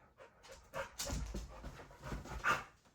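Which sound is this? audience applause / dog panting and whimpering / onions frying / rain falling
dog panting and whimpering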